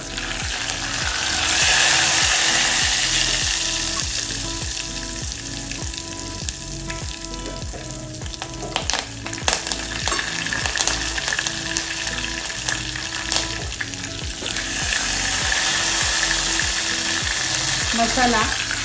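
Masala of cumin, garlic, dry coconut and curry leaves sizzles and fries in hot oil in a pan, with steady crackling and repeated scraping strokes of stirring throughout.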